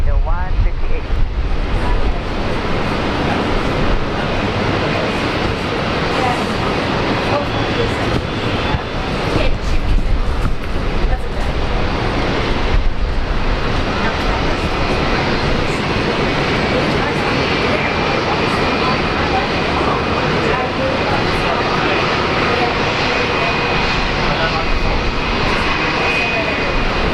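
An airliner taking off at Brisbane Airport, a loud, sustained jet-engine roar that holds steady for nearly half a minute, heard from outdoors with a broad rumbling wash.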